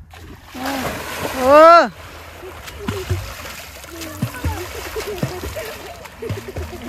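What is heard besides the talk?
water splashing while bathing in the Ajay river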